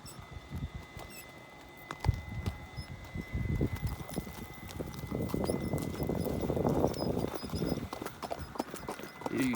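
A young green horse walks a mountain trail in Arizona, hooves clip-clopping in an irregular rhythm close by, with crunching footfalls and light rustling throughout.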